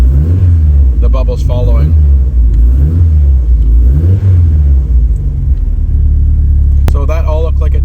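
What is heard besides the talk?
car engine revving during boost tuning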